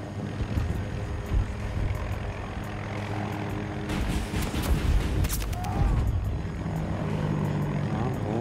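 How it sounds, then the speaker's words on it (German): An attack helicopter in the video game Battlefield 2042 drones steadily, with a louder rotor and engine swell in the middle under battle noise and distant shots. "Achtung, Attack Heli bei Bravo direkt."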